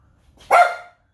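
A dog gives a single sharp bark, close and fairly loud, following a short quiet moment and then fading quickly back to silence.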